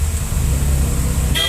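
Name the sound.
heavy city traffic with car horns in Chennai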